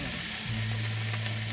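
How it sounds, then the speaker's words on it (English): Bacon sizzles in an oiled frying pan at a beach campsite, making a loud, close, continuous hiss and crackle with a low hum underneath and no talk. "Yeah, that's a sizzle you want."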